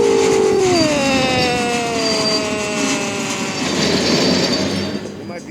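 A long diesel train rolls past close by, a loud, steady rumble with clattering wheels throughout and a falling horn-like tone at the start that fades away.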